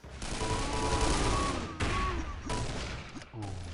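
Gunfire from a match of Cube 2: Sauerbraten, an eCTF tournament, with loud sustained blasts under a continuous wash of game noise and sharp breaks near the start and around two and a half seconds in.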